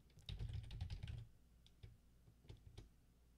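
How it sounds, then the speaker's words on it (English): Fast, dense clatter of typing on a computer keyboard, then a few sparse, separate keystrokes after a pause, close and fairly quiet. "Just let me type!"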